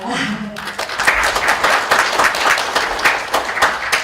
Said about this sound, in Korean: 우리 안혜영 의원님 큰 박수로 환영해 주시기 바랍니다